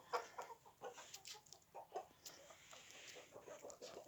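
Several backyard hobby chickens cluck softly nearby in short, irregular bursts, a quiet flock murmuring outdoors in winter snow, with no talking.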